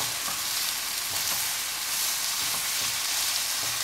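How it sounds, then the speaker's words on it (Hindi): Vegetables frying and being stirred together with chicken in a hot pan, a continuous loud sizzle with soft scraping stir strokes, no talking. "सब्जियों को भी मिक्स करते हैं चिकन के अंदर।"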